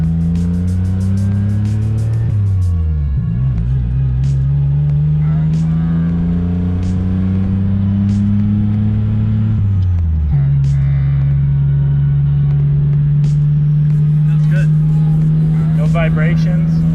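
A supercharged Geo Metro with a rusty body drives in third gear, its engine droning loud and close, pitch climbing as it revs then dropping at a shift and holding steady; people talk briefly over it.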